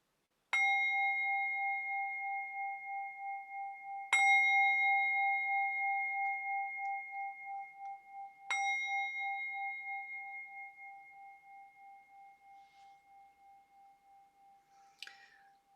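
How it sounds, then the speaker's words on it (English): A meditation bell rings three times at slow, even intervals, each strike a clear metallic tone that hangs and slowly fades, with a faint final tap near the end; no talking. "take a little time to listen to the bell"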